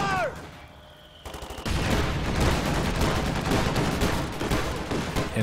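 Rapid bursts of anti-aircraft half-track gunfire in the Company of Heroes 2 battle, starting after a quiet moment and continuing as dense, loud automatic fire with a voice talking over it.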